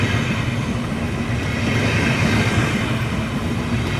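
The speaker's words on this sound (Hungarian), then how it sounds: "itt a vonat" A train rolls past close by, a steady loud rumble with rail clatter that holds throughout, no voices.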